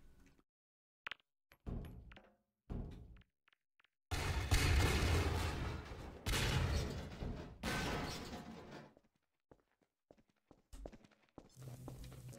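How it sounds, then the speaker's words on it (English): Explosions and gunfire rumble in Half-Life 2: Episode One, with heavy booming blasts in the middle of the clip between sparse sharp shots and quieter clatter, fairly faint overall. "Explosions."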